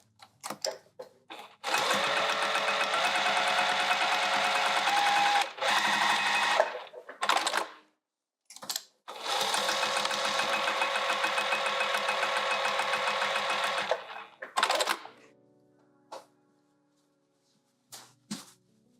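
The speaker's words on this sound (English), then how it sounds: "Just come back over and I'm gonna re-sew that." Sewing machine re-stitching a seam on a fabric coffee press cozy, two long steady runs of fast whirring stitching with brief stops and short bursts around them, close and without talk.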